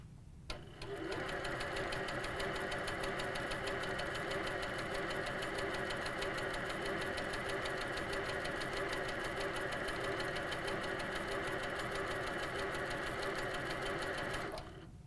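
An HQ Sweet Sixteen quilting sewing machine stitches steadily with a fast, even mechanical chatter, close and loud for about fourteen seconds before stopping, with matching thread in top and bobbin.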